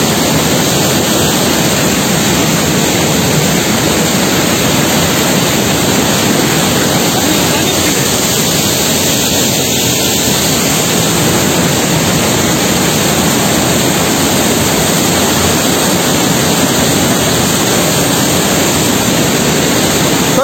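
A nearby waterfall roars as a steady, dense wash of falling water, loud and unbroken throughout with no voices.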